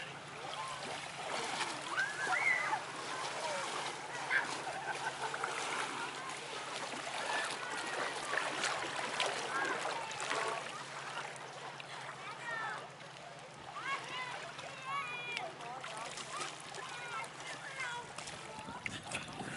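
Water sloshes and splashes around a small boat, with waves slapping continuously while people talk nearby.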